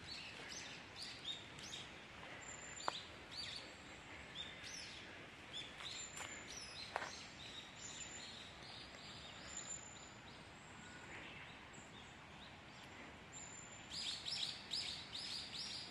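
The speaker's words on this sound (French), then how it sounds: "Beaucoup d'oiseaux dans les environs." Several birds chirp and call on and off against a soft, steady background of a river on Mount Takao, with brief clusters of song, all fairly distant.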